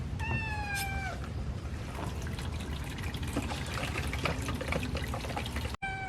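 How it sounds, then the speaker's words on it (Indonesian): Water filling a simple handwashing container fitted with a tap, poured in steadily to test it for leaks, making a continuous close trickle and splash under a brief high cat-like cry. "Bisa kita isi dulu ya dengan air."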